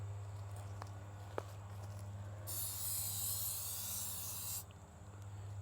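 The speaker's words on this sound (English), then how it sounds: "Then we're going to start laying down the silicone spray," Silicone spray applied to tent seams, a single steady aerosol hiss of about two seconds that cuts off abruptly, preceded by a couple of small clicks and handling noises over a low hum.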